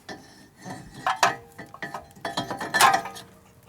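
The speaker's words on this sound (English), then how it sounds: "So we'll take our new rotor, go ahead and slide it on" Metal clanks and clinks as a new front brake rotor is slid onto the hub of a 1996-2000 Toyota 4Runner, a run of close, sharp scraping contacts and rattles over about three seconds.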